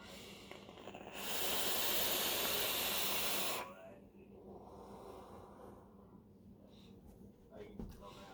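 A loud, steady whoosh of air drawn through a Unicorn v2 RDA rebuildable atomizer on a vertical mechanical mod. The smooth, unrestricted draw lasts about two seconds, with quieter room background before and after.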